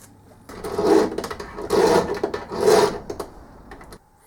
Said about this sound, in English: filed the inside of the jolly thing